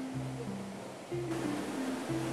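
Cavern Cascade, a waterfall in the Watkins Glen gorge in the Finger Lakes, gives a steady, fairly quiet rushing roar with faint tonal sounds running alongside.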